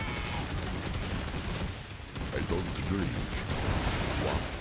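The TommyBoom weapon fires in the Killing Floor 2 video game as a continuous, dense rattle of gunfire with bursts and impacts that stay loud throughout the few seconds.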